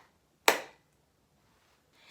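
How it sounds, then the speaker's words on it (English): One sharp, close hand clap from a lesson setting, a single loud crack that dies away quickly into near silence. "Let's give ourselves one big clap."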